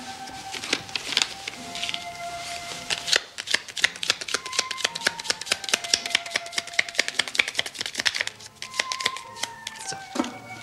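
Playing cards shuffled by hand at a table, crisp rapid riffling bursts with short pauses between passes, close and clear, with faint background music.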